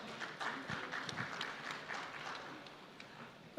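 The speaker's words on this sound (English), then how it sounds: "please give them a big round of applause." An audience applauds, a dense patter of many hands clapping at moderate volume that gradually eases off.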